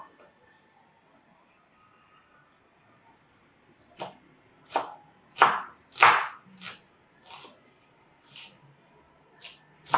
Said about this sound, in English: I'll cut the onion in cubes